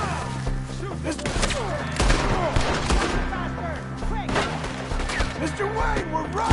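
Gunfire in the Red Dead Redemption 2 video game: a dense, busy exchange of shots and thuds over a steady low musical drone, with voices talking over it.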